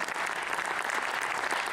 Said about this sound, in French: faire un tonnerre d'applaudissements